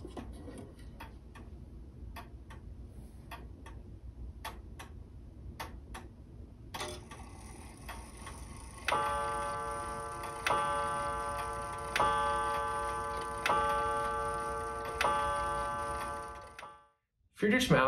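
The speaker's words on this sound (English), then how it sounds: "Let's listen to the chime." A Friedrich Mauthe free swinger clock ticks steadily and crisply at close range, then its gong chime strikes six evenly spaced, ringing, resonant notes that overlap as they decay, before a brief silence.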